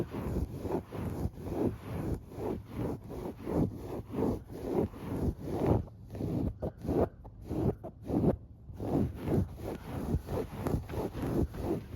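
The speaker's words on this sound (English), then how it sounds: "Oh, I love fabric sounds so much." Couch fabric is rubbed and handled up close in a quiet living room, producing soft, rhythmic scratchy swishes repeated about twice per second with brief pauses, at low volume.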